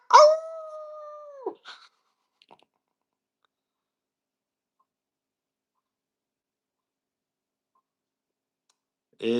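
A single dog howl, a long sustained tonal wail about a second and a half, followed by a couple of short yips and then near silence.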